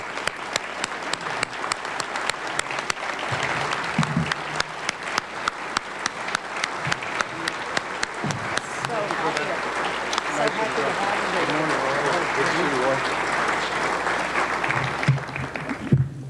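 Conference audience welcoming Senator John Cornyn with applause: a long, dense run of clapping from a sizable crowd, loud and sustained for about fifteen seconds before it thins out near the end.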